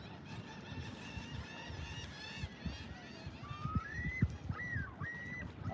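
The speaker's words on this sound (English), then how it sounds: "Oh, some ducks." Ducks near a fishing pier on a lakefront give a series of honking, quacking calls, several clear nasal cries toward the end over steady outdoor ambience and low wind rumble.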